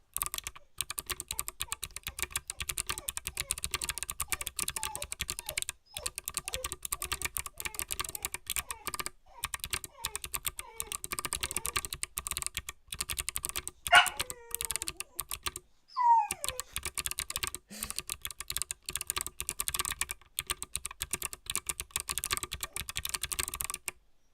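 Rapid, continuous clicky typing on a mechanical keyboard with Box Jade switches, sharp close keystrokes in fast bursts with brief pauses, and a dog whining faintly in the background.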